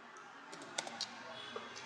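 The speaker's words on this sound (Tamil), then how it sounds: "கேப்சா நம்ம டைப் பண்ணிக்கலாம்." A few soft, sparse clicks of a computer keyboard as a captcha is typed, faint and close against a quiet background hum.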